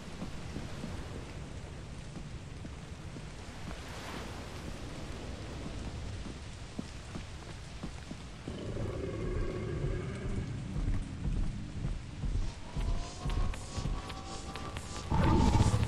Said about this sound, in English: The thing is, I know it's raining.